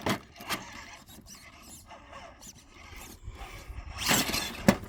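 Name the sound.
RC car on Proline Flat Iron XL tires spinning with too much wheel speed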